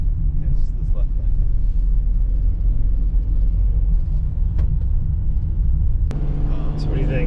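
Low-roof Ford Transit van cruising in the left lane of a freeway, a steady loud engine and road rumble running throughout, with people talking inside the cab over it.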